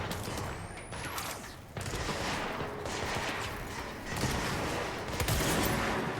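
Gunfire while shooting enemies in the video game Control, rapid bursts of loud shots rattling through a dense, noisy mix of game effects, with no clear speech.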